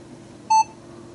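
Minelab Equinox metal detector powering on, giving a single short, clear electronic beep in an otherwise quiet room.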